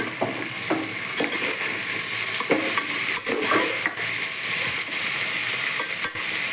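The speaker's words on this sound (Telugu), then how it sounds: "తర్వాత కొత్తిమీర, పుదీనా వేగాలండి" Fresh coriander and mint leaves fry in a hot pan while being stirred, giving a close, steady sizzle broken by repeated scraping strokes of the spoon, with no voices.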